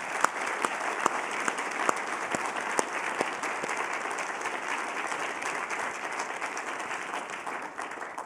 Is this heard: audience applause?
yes